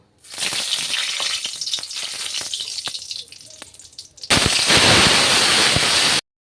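Cumin seeds sizzle and crackle steadily in hot oil, tempering a Bengali taro-leaf dish; the frying is close and continuous, then swells into a louder, fuller hiss for the last two seconds.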